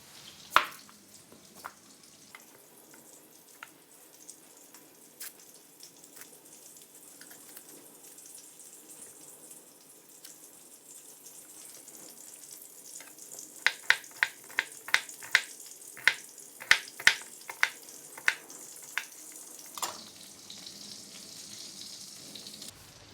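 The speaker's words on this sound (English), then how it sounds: "Now that we are frying these things" Chicken, veal, zucchini and eggs frying in a pan give a faint, steady sizzle, broken by scattered clicks and a quick run of sharp clinks and taps of kitchen utensils, with water-like rustling.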